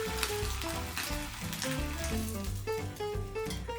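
Ham frying in a pan right after hot water is poured off for a ramekin egg breakfast, giving a steady close sizzle heard alone with music notes over it.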